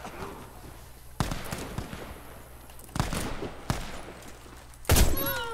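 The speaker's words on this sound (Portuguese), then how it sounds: "Só o barulho do tiro de scout." Several loud, sharp scout sniper rifle shots ring out one at a time at irregular intervals in the game Warface, over faint background hum.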